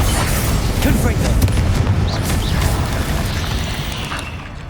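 Bombarda and Confringo spell explosions in the Hogwarts Legacy video game, dense continuous booming and crackling blasts that stay loud throughout, with game voices shouting over them.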